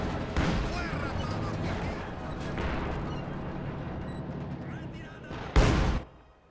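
Soviet howitzers firing in the strategy game Company of Heroes 2 as a steady rumble of distant artillery and battle noise, ending in one sharp, loud blast near the end.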